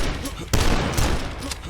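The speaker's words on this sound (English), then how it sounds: "Super shotgun? That could work. Oh yeah, that'll work just fine." The super shotgun fires in the video game DUSK: dense, loud blasts at close range over a busy wash of game noise, with a strong burst about halfway through.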